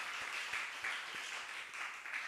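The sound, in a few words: congregation applause welcoming returning church members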